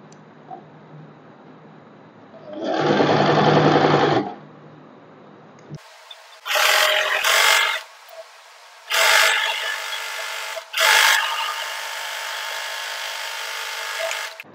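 A sewing machine stitches the side seam of a girl's umbrella-style dress, running in four close bursts of whirring: one long steady run, then three shorter ones separated by brief pauses, with no talking.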